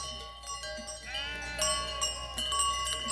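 A lamb bleats nearby several times, wavering calls over a faint low hum, with no talk.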